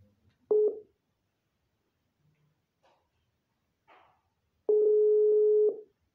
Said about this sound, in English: the call is not going through